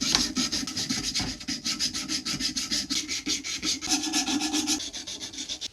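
Abrasive mesh strips rubbed back and forth over a vintage Warranted Superior saw blade, a fast rhythmic rasping scrub of even strokes repeating steadily and close.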